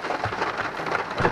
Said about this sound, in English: it's freaking raining again